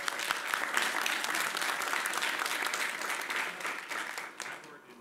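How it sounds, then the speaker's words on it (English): A round of applause fills a meeting room as an audience of employees claps steadily for several seconds, the clapping dense and even before thinning slightly at the end. "Round of applause."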